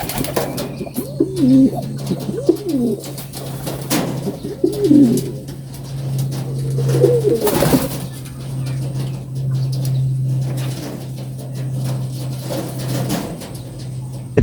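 Racing pigeons coo in low repeated phrases at a loft after a training flight from Caba, La Union, close and moderate in volume over a steady low hum, with a brief flutter of wings midway.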